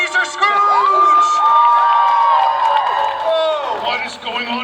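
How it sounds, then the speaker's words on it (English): A crowd at a Disneyland show cheers and whoops loudly, with high shouts rising over a sustained roar, tapering off toward the end. "They're cheering when they should be booing."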